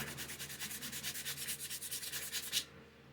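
Wood being sanded flat and smooth on a guitar where screws had worn the surface, a quiet close rhythmic rubbing in quick even back-and-forth strokes that stops abruptly near the end.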